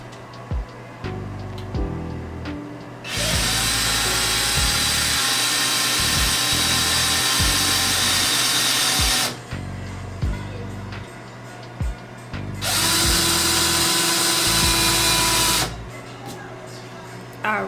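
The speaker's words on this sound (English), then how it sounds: "I do go back and drill the holes a little bit deeper, just to make sure that everything is snug" A power drill boring holes into a bathroom wall runs in three long, loud bursts with brief pauses between, interspersed with faint clicks and handling noises.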